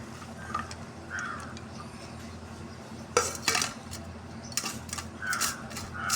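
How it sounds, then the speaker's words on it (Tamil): Salad of tomato, cucumber, carrot and coriander leaves being mixed in a bowl, with close utensil clinks and scrapes against the dish, bursts of clatter toward the end over a low steady background. "தக்காளி அப்புறம் குக்கும்பர் கேரட் கொத்தமல்லி இலை இது எல்லாமே இதில் போட்டு மிக்ஸ் பண்ணிக்கலாம்"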